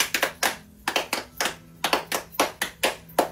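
Tepuk sakinah hand-clapping routine: a crisp, close series of about a dozen sharp claps in a quick syncopated rhythm, grouped in short bursts with brief pauses, and no talking.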